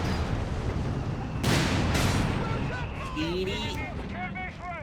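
Artillery booms roll across a Company of Heroes 3 battlefield, with a couple of heavy blasts at the midpoint over a constant rumbling combat din, while a caster talks over it.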